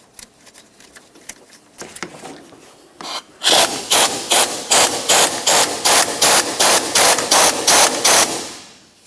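Mounting bolt being run in and snugged on the intermediate steering shaft of a 1994-2002 Dodge Ram 2500, heard as a close, loud series of about a dozen regular rasping ratchet bursts after a few lighter clicks.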